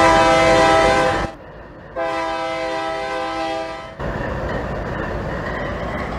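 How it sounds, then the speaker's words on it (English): A train horn in Farming Simulator 22 blasts loudly and close, a harmonic tone broken by a short gap, over a continuous engine rumble that carries on after the last blast. "How about that horn?"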